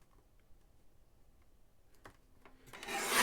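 Paper is trimmed by an eighth of an inch for a Diamond Press holiday pop-up card kit: quiet scraping and rubbing, then a louder, rasping slide of the cutter near the end.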